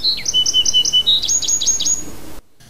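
A songbird sings a clear, close run of repeated high chirps and whistled notes in a steady rhythm, the phrase ending abruptly into near silence.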